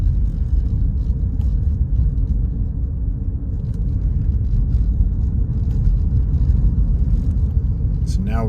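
A car drives north through the Desert Shores residential neighborhood of Las Vegas, giving a steady, close low engine and road rumble throughout with no talk over it.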